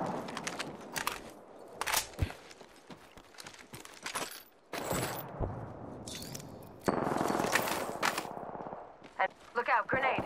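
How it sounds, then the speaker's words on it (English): Gunfire from the video game Apex Legends crackles in rapid bursts and single shots during a firefight, some near and loud, others more distant. A player's voice is heard between the volleys. "Getting shot at."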